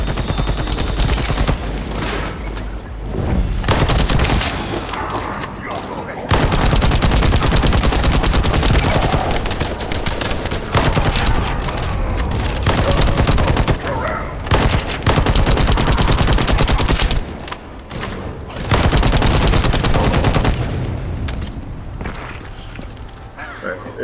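Dense, loud automatic gunfire from shooting mobs in The First Descendant co-op game, long sustained bursts with brief pauses throughout, under a player talking.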